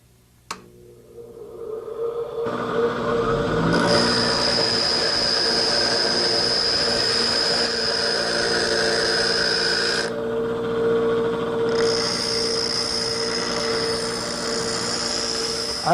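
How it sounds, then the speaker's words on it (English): A knife or adze blade is ground on a spinning grinding wheel, giving a loud, continuous high-pitched grinding whine. It drops back briefly partway through, then resumes with no talking. "I find that if I hold the blade sideways and turn it, I can grind it off much more evenly than if I tip it straight onto the wheel."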